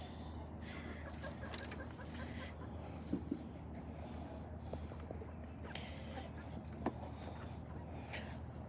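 Free-ranging backyard chickens on grass cluck faintly and sporadically in the distance, with a couple of slightly sharper calls standing out over a steady outdoor hum and insect-like background noise.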